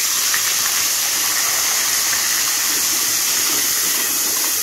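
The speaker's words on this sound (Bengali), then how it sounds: "এবার আমি দিয়ে দেবো যে পেঁয়াজটা বেটে রেখেছিলাম" Ground onion paste hitting hot oil in a pan for potol korma, a loud, steady, close sizzle and hiss that holds evenly throughout with no talking.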